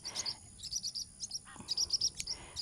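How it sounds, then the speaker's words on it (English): Birds chirp and tweet in quick, repeated bursts near a tomato row in a garden, the calls fairly close and continuous across the moment with soft outdoor ambience beneath. "y'all can probably hear the birds."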